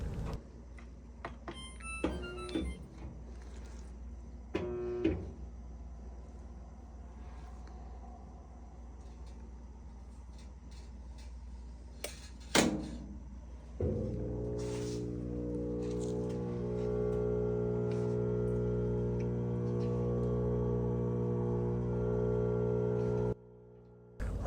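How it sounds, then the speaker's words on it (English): A GE washing machine, model GTW500ASNOWS, in its drain cycle with the tub empty: a steady, loud pump hum with strong tonal harmonics starts partway through and runs continuously, after quieter clicks and knocks from the machine. "Right now the washer is in drain"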